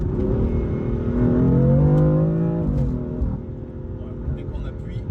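A BMW M4 F82 with its S55 engine pulls hard in sport mode, a close, loud rising drone climbing in pitch for about two seconds before easing off, with a person talking over it.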